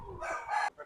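A red kakkiran rooster, about eleven months old, gives a short, close crow in two rising pulses followed by a brief tail note, loud against a quiet background.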